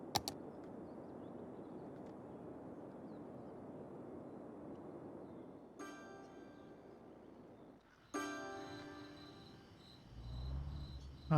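Crickets chirp in a steady, faint nighttime chorus across a town in Cities: Skylines, a continuous insect drone with a few game interface blips and a low rumble near the end.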